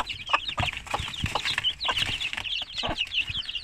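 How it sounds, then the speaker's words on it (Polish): Young miniature Brahma chicks being raised alongside a mother hen, giving continuous high-pitched peeping and soft clucking close by, with a few scratchy rustles and no talking. "No i są najmłodsze kurczaki. Oczywiście same brachmy miniaturowe."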